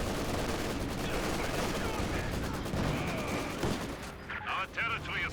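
Battle noise in the strategy game Company of Heroes 2 rolls on as a dense, continuous wash of gunfire and explosions, including a rifle grenade, with voices audible in the mix.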